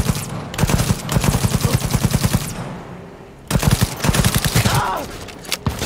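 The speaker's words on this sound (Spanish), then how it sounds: "Venga, venga, ametralladora inteligente." Smart machine gun fire in the video game Cyberpunk 2077: rapid, loud automatic bursts rattle for a few seconds, break off briefly, then resume in another sustained volley.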